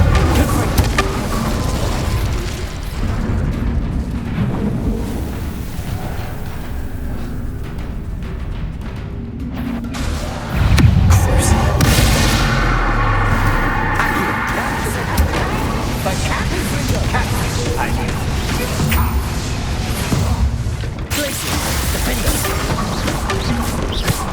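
A fire spell cast in Hogwarts Legacy on PS5 bursts into a loud, booming blast partway through, set against game music and rumbling effects, with a character's voice heard around it.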